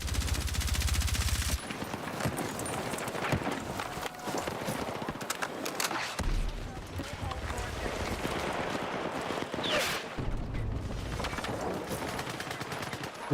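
Rapid automatic gunfire in a first-person shooter game played with a controller, dense bursts of rattling shots with brief pauses between them, loud and continuous throughout.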